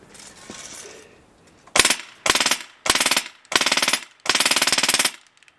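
Airsoft gun firing from a wound drum magazine, five rapid full-auto bursts of sharp rattling shots, close and loud with short gaps between bursts, after a soft quiet rumble at the start.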